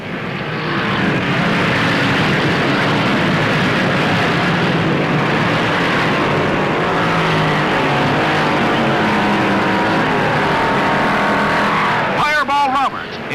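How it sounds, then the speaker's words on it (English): Race car engines roaring at the finish of the Southern 500 stock car race, a dense continuous loud drone of passing cars that runs almost the whole time, with a sharp whooshing pass near the end. "Roberts is wheeling through the last mile smoothly and steadily"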